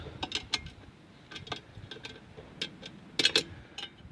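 A 7/16 wrench turns a bolt on a lawn mower muffler, giving faint, close metallic clicks and ratcheting ticks at irregular intervals, with a tighter cluster near the end.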